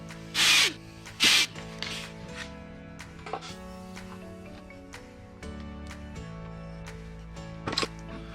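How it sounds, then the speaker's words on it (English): An angle grinder lightly touches each corner of a snap ring on an NP231 transfer case's 31-spline input shaft, making two quick, loud bursts close together and a brief third near the end, over a low steady hum. "I'm going to take this angle grinder and just barely hit each corner just"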